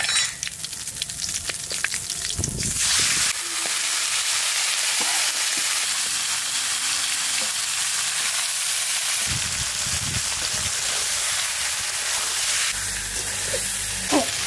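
Country rooster meat frying in hot oil with cumin and dried chilli, a loud steady sizzle and hiss punctuated by stirring clatter, close and continuous with little else heard.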